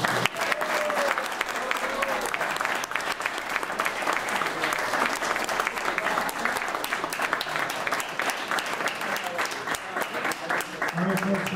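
A room of Rotary meeting attendees applauds the winning contest speaker, sustained dense clapping lasting several seconds with scattered voices and a few cheers mixed in.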